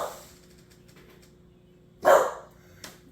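An English bulldog lets out one loud bark, then a shorter, quieter yip, against a quiet indoor background.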